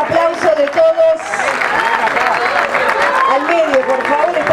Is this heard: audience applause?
yes